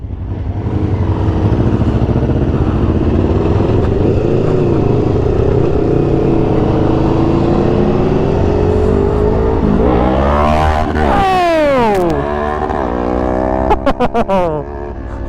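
An Aprilia motorcycle engine drones loudly and steadily, with rising harmonic sweeps near the end as the bike revs and passes close by at speed, with a few sharp blips at the finish.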